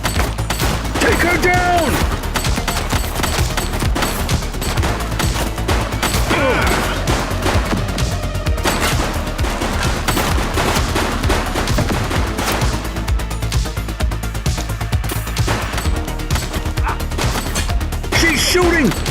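Dense, sustained gunfire from a police shootout in the video game The Precinct, rapid bursts and volleys running loud and nearly continuous through the whole stretch, with shouted voices cutting in over the shooting.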